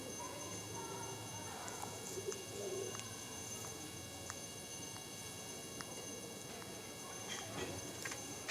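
Pigeons coo repeatedly in a loft, low soft calls over steady background hiss, with occasional wing or foot sounds nearby.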